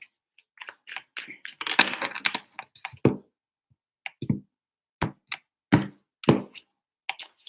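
Quick bursts of tarot card shuffling, crisp flicks and soft taps in irregular clusters, close by and with no voices.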